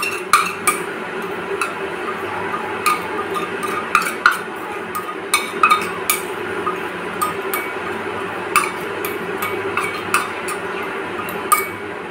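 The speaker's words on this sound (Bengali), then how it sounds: "এবার এটাকে আমি একদম লো ফ্লেমে রেখে এটাকে নাড়তে থাকবো।" Semolina and sugar stirred in a pan over a low flame, a spoon scraping and clinking against the metal in irregular close taps and scrapes, steady and moderately quiet with no talk.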